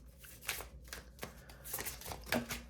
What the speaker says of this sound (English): I'm gonna go ahead and shuffle these and get just the last few messages.